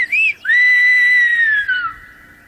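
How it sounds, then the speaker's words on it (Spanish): Silbo Gomero, the whistled language of La Gomera: a loud, clear human whistle with a short rising-falling note, a brief break, then a long sustained tone that slowly glides downward and fades, with no talk. "solo existía el silbo gomero"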